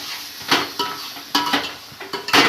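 Spatula stirring spicy chicken masala in a metal pan, several distinct scraping clanks at irregular intervals, close and clear with faint frying underneath.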